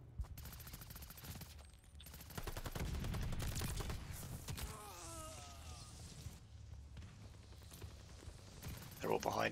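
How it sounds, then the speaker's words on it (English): Gunfire bursts and a swept, zapping weapon resembling a ray gun ring out during a Call of Duty Vanguard match on the Dome map, with a clustered volley midway and talk faintly underneath. "It sounds like a ray gun."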